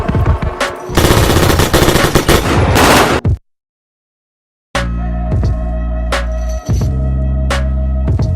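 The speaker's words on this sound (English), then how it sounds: "Gunfire still." Loud close bursts of rapid automatic gunfire, one dense volley cut by a sudden dead silence, then further sharp shots ringing out over a sustained tonal hum.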